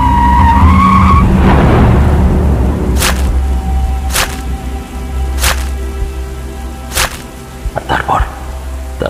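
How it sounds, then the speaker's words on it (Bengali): A car skids with a long tire squeal on a rain-soaked road at night, then a series of sharp, loud crashing impacts follow one after another, ending in scattered smaller knocks. "রাতে বাজ পড়ার জন্য মেন্টাল অ্যাসাইলামে যাওয়া গাড়িটা অ্যাক্সিডেন্ট করে"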